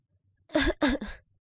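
Three quick, harsh coughs in a row, close and fairly loud, followed by quiet.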